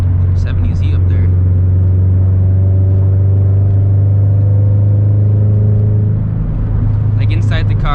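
Steady low exhaust drone heard from inside a Toyota 86 fitted with an aftermarket eBay exhaust, loud and continuous, with engine rumble and a rising whir as it cruises.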